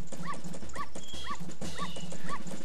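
A dog in The Legend of Zelda: Majora's Mask gives a repeating series of high, short yips and whimpers in an even rhythm over a low game hum, fairly loud and close.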